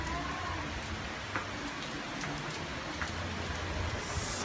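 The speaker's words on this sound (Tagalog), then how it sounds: "Super rain!" Heavy rain pours down steadily at a beach resort, a dense continuous hiss of drops on surfaces that fills the whole stretch without letting up.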